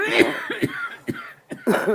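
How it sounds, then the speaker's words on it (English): Repeated coughing close by, several rough coughs spaced unevenly over a couple of seconds, mixed with strained vocal sounds. "Oh, she's still coughing."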